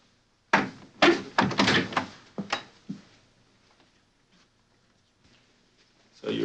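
A door in the Murder, Anyone? video game, opening and closing in a quick series of loud, close wooden thunks and knocks, then fading into near silence with a faint knock at the end.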